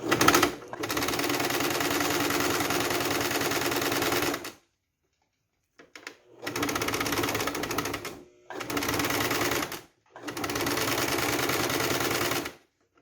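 Sewing machine stitching fabric with Lastex elastic thread: a steady, fast mechanical whir in four long runs separated by short pauses, close and loud, with no talking.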